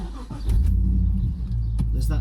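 A 2004 Holden Commodore HSV with a 5.7 V8 LS1 engine cranks and fires, settling into a deep, close, steady rumble with a couple of sharp clicks over it.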